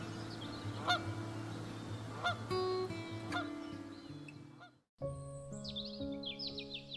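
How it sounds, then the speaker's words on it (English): A large pre-migratory flock of geese-like birds calls over a bay, a dense chorus of overlapping honks and chirps at a steady distance, with no talking. "These pre-migratory gatherings can reach thousands of individuals and transform bays into noisy bird conferences."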